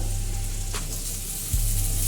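Green beans dropped into lightly fried onions sizzling in a pan for egg prawn chowmein, a steady close frying hiss with a brief clatter partway through.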